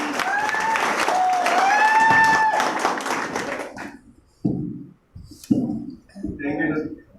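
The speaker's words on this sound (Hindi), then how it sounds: "यहाँ के हीरो को एक बार जोरदार तालियां" Audience at a live event clapping for a performer, loud applause that mixes with a singer's voice and music at first, then thins into scattered claps and a few voices as it dies away.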